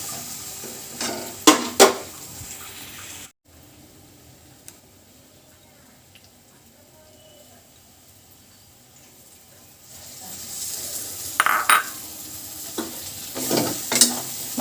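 Mutton keema being stir-fried in a thick tomato masala in a pan, with a soft steady sizzle under scraping stir strokes that grow louder and busier near the start and again toward the end.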